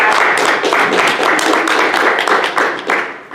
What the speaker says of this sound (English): I just want to give Kate a round of applause.